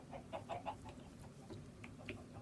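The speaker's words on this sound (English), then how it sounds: "How does a chicken get in here?" Minecraft chicken clucks in a series of short, quiet, evenly spaced clucks that come and go over a low game background, with no talking.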